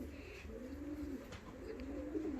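Fancy and costume pigeons give low, soft rolling coos against a steady background hiss, quiet and without voices.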